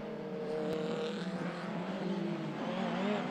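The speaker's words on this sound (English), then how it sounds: "the big turbo cars accelerate hard out the hairpin and up the main straight" Turbocharged sports and saloon race cars accelerate hard out of a hairpin and up the main straight, a steady distant engine roar with rising and shifting tones, fairly faint and continuous.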